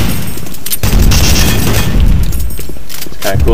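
Rocket launcher explosions in Doom 3 hit as heavy, loud booms with rumbling tails, several blasts in quick succession up close.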